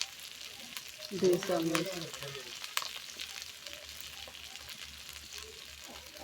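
Spices such as turmeric and chili frying with meat in a pan, with a short burst of sizzling and stirring early on, then a quieter hiss as a voice speaks briefly.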